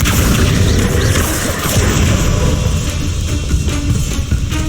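A Confringo fire spell exploding in Hogwarts Legacy, a loud, dense, rumbling blast that carries on in a continuous roar for the whole stretch.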